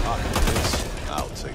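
Rapid automatic gunfire in the zombie shooter Back 4 Blood, a dense continuous burst of shots heard up close and loud, with game chatter and effects mixed in underneath.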